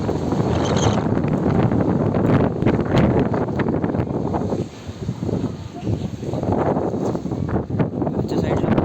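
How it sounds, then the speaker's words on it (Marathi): Strong wind buffeting the microphone on the hilltop at Raigad fort, a loud continuous roar with gusting swells and a brief lull midway. "इथे हवा बघा. मला आवाज येत असेल बघा."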